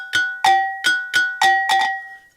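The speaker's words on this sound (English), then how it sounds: "Yankogi is an African double bell." A little African double bell called a Yankogi is struck about seven times in a quick, slightly uneven rhythm, each bright metallic clank ringing with sustained overtones up close.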